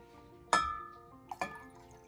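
Water being poured from one cup into another during a simple kitchen-table science demonstration, heard as two short splashing bursts with a faint clink, close by and otherwise quiet.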